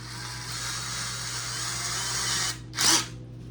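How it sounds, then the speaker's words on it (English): A power drill bores into a plastic proton pack prop, a steady continuous whine running about two and a half seconds before stopping, then a short sharp burst as it briefly spins up again, close and alone. "now what you're gonna do is you're just gonna drill straight down, as straight as you can"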